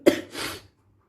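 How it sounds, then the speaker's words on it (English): A teacher coughs once, a sharp burst followed by a breathy throat-clearing tail, close and fairly loud during an online class, then silence. "Sorry children, I cough it."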